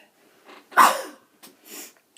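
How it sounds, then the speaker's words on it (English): A single sharp sneeze from a woman with allergies, short and close, preceded by a quick inhale and followed by a couple of faint breaths. "I've been sneezing and coughing and everything"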